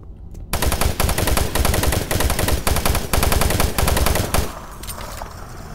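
Rapid sustained chaingun fire from Chaingunner enemies in Doom 3 at Delta Labs, a loud continuous rattling burst lasting several seconds before cutting off into a quieter tail.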